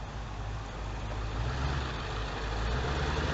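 A truck engine idles beside a heavily traveled town street, a steady low diesel rumble close by with traffic noise around it and no voices.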